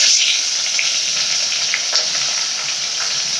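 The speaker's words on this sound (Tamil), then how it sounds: "வெங்காயம் பச்சை மிளகா போட்டுக்கலாம்" Onion and green chili sizzle in a pan for coconut milk rice, a loud, continuous hiss of frying that holds steady throughout, with faint stirring clicks and no voices.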